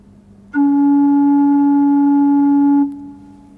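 A single steady organ pipe note sounds clearly for just over two seconds, then stops abruptly. It is alone, with no other instruments or voices.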